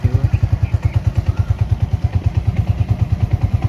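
A motorbike ridden away from a mosque, its engine putting out a steady, rapid low thumping pulse close by, with no speech over it.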